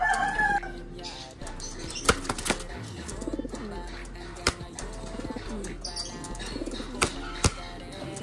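Pigeons cooing and flapping their wings nearby, with sharp bursts of wingbeats scattered across the stretch, low coos and chirps between them, and a person talking now and then.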